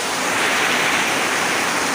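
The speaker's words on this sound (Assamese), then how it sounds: "একদম ধাৰাসাৰ বৰষুণ দিয়ে আছে" Heavy rain pours down steadily, a dense, loud, unbroken hiss filling the whole moment with no voices over it.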